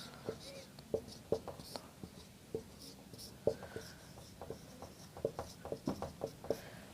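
Chalk or marker strokes on a board during a polity lesson, a series of short scratchy taps and scrapes in an uneven rhythm, close and clear, with no talking over them.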